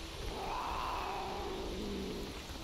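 Mutant cat creature in S.T.A.L.K.E.R. Anomaly, a short wavering yowl that rises and falls over a steady noisy game ambience, moderately loud and heard alone.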